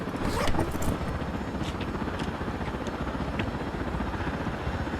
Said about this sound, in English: that helicopter absolutely shoots at me